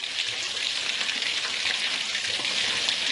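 Curry mixed with yogurt frying over a high flame in a pan, a bright, steady crackling sizzle close by that runs evenly for the whole stretch with no talk.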